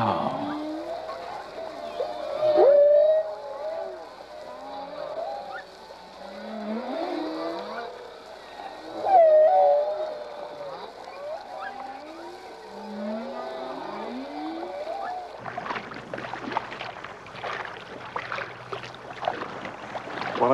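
Whale vocalizations recorded underwater, a series of rising and falling moans and squeals at moderate distance, followed by a burst of crackling, bubbly noise near the end.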